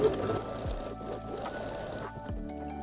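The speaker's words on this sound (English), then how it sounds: "Remove pins before sewing and sew all the way throughout." A sewing machine stitching lingerie fabric for a thong, running in a steady close whir with a brief start and stop, no voices.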